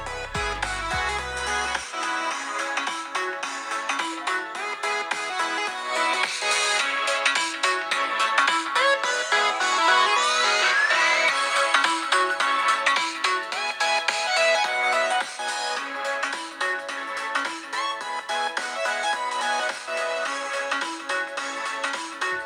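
Music played at maximum volume through the speakers of a Xiaomi Mi 10T Pro phone held close to the mic, loud and continuous throughout.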